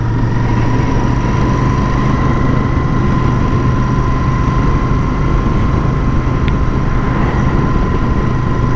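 A Royal Enfield Bear 650 motorcycle engine drones steadily and loudly, a constant even hum with no revving changes, heard close and alone without talk.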